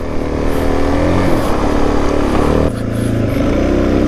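A Suzuki DRZ400 dirt bike rides a snowy trail, its engine droning loud and steady close by, with a brief dip in pitch partway through as the throttle shifts.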